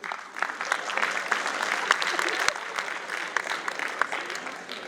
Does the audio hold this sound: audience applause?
yes